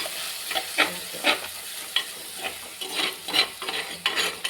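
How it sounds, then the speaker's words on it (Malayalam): A spoon stirs softened, sautéed onions in a pan, giving repeated scraping strokes at an irregular pace over a soft background sizzle, close and moderately loud with no voices. "ഇപ്പം നമ്മളെ സവാള എല്ലാം നല്ലതുപോലെ വാടിയിട്ടുണ്ട്. ഇപ്പം നമുക്കൊന്ന് സ്പൂൺ ഇട്ടൊന്ന്"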